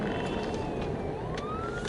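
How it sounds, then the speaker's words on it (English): An ambulance siren wails from a distance, its tone sliding up and down over the steady rumble of traffic heard from inside a moving vehicle, with no speech. "we've got an ambulance coming towards us, so we're going to pull over"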